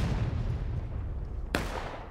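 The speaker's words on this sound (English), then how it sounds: "Nice arty shot from the CSA arty from that gun over there." A single distant artillery shot from a Civil War field gun in the game War of Rights, on the Miller's Cornfield map, cracks sharply once over a steady low rumble of battlefield ambience.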